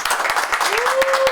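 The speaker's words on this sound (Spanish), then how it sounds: "Me merece un aplauso" A short burst of applause from an audience at a cultural event, brisk clapping throughout with a brief tonal sound sliding up beneath it.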